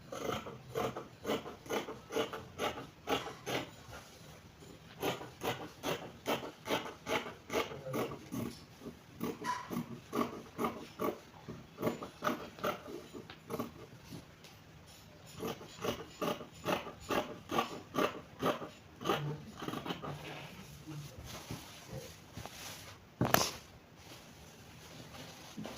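Scissors snipping through fabric while a princess dart bustier is cut out, a rapid run of crisp, close blade closures in bursts with brief pauses, one louder snip near the end.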